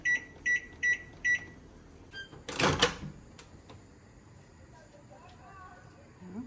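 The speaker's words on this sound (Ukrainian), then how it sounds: "Ставлю їх в мікрохвильовку, по центру ставлю банку з водою і ставлю на 5 хвилин" Four evenly spaced keypad beeps, a clatter, then a microwave oven's low steady hum running on its own, heating jars with a jar of water in the center.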